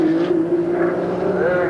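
A Nissan R32 GT-R race car running at Bathurst during the 1991 Tooheys 1000 top ten shootout, a steady loud engine drone holding a near-constant pitch that rises slightly toward the end, with a commentator talking over it.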